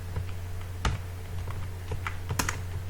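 Typing on a computer keyboard while entering an Excel formula, with scattered key clicks and a few louder taps over a steady low hum, close and fairly clear.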